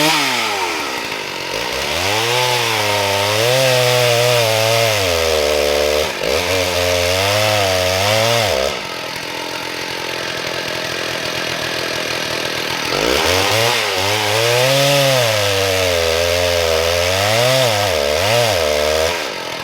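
Rare red-light Stihl 066 chainsaw with a Chinese carburettor, engine running loud and close, revving up and down in surges, dropping to a rough idle midway before climbing again.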